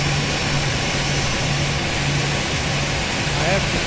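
Turbine drone of an Airbus A320 jet engine in a flight simulator game, a steady loud broadband roar holding level throughout with a faint low hum beneath and no break.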